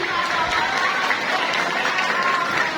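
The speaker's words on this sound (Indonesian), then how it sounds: "Kita berikan tepuk tangan yang meriah sekali lagi" An audience at a discussion with disability groups at an Islamic center in Bekasi gives a loud, dense round of applause, sustained and even throughout, with crowd murmur underneath.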